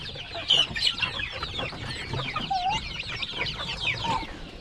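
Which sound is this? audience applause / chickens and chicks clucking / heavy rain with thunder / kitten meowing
chickens and chicks clucking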